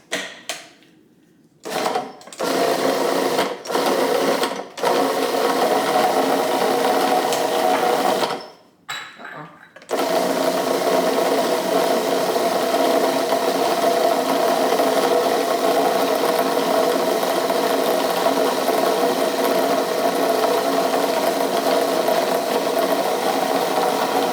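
A food processor purees mock chopped liver, its motor whirring in a few short pulses before settling into a long, steady, loud run.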